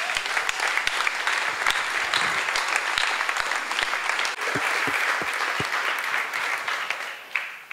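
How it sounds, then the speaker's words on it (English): Applause from an audience at a coffee grinder research presentation, a full, steady clatter of many people clapping with a few distinct sharp claps near the front, lasting several seconds before easing off. "So, big round of applause."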